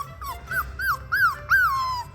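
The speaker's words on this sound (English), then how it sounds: "So these guys are only 3 weeks old and look how big these puppies are." Three-week-old fox red puppies whimper in five quick, rising-then-falling whines, close and fairly loud, each cry a little longer than the last.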